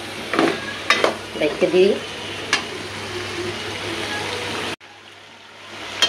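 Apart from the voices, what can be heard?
hyacinth beans and potatoes sautéing in a pan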